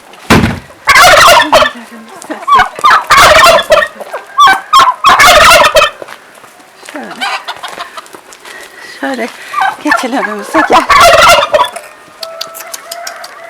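Turkeys gobbling in loud repeated bursts close by on a farm, with other fowl clucking and a person calling out briefly between the calls.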